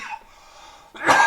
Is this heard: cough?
yes